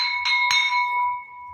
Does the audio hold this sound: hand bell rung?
yes